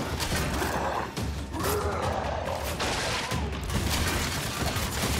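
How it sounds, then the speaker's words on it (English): Turret gunfire in Gears 5, a continuous rattling barrage of shots mixed with mechanical clanks and crashes, loud and busy throughout. "what's shooting in that? Oh, they have a turret up there"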